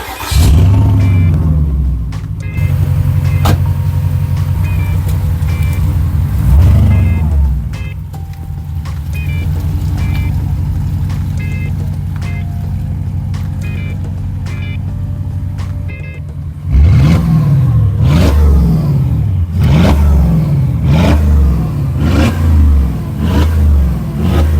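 Porsche Cayenne Turbo V8 with the muffler deleted, driving close by: a loud, deep engine drone that holds steady, then rises and falls through repeated revving gear changes, with no talk.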